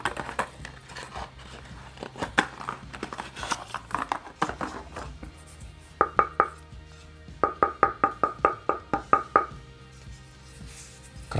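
Ball bounced repeatedly on a 729 Thunder carbon table tennis paddle, sharp close taps in an uneven rhythm, later settling into steady quick bounces, with faint room noise between hits.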